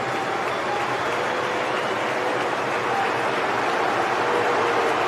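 A football stadium crowd roars after England's equaliser, a loud steady wall of cheering and applause that stays full and constant from start to finish.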